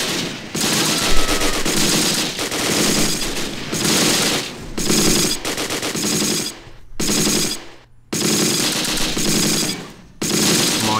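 Bren gun and rifle fire in the WWII game Close Combat: Last Stand Arnhem, during an Irish Guards assault on a Dutch village: loud, dense bursts of automatic fire alternating with single shots, broken by a few short pauses.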